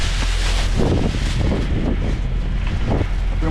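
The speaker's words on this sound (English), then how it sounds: "That wind hitting" Strong, steady gusts of high wind buffet the microphone outdoors in icy weather, a continuous loud low rumble with no voices.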